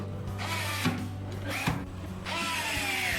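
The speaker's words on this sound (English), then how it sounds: "Fasten the outside screws." A power drill or driver fastening the outer screws on a DIY 48V 16S standing battery case, with short whirring bursts of the tool running and stopping at close range.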